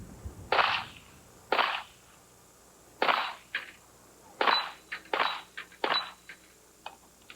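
Gunshots ring out at a sportsman's team shooting competition, roughly ten sharp cracks at irregular intervals, some spaced apart and some in quick pairs, moderately distant with a slight ringing tail.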